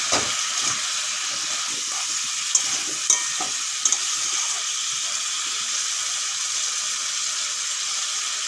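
Pumpkin frying with ground turmeric, chili and cumin in a pan, a loud, steady close hiss and sizzle with a few faint scraping stirs, no speech.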